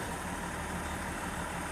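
A broken-down Dodge truck engine idles with a steady, dense, rough rumble close by, and no separate knocking stands out from the drone.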